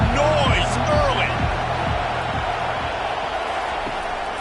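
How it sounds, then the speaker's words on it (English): A stadium crowd roars in the College Football 25 video game, a steady, dense wash of cheering noise with a rhythmic thumping, while a commentator talks over it. "This crowd bringing the energy and noise early."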